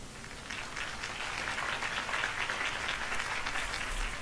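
Crowd applause after a campaign speech by Harvey Dent in the Batman Telltale video game, a steady wash of clapping held at moderate level for several seconds with distant-sounding crowd texture.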